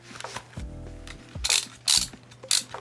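A ratcheting dial on the back of a VR head strap for a Quest 3 is turned, giving bursts of close, crisp mechanical clicks with short pauses between turns.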